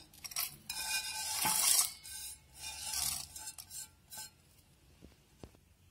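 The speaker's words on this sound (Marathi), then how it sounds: "आता उरलेले जे मसाले आहेत ते आपण वाटून घेऊया" Masala chai spices are ground by hand, producing close, rasping, scraping bursts that come in uneven strokes, swell and fade, with no voices.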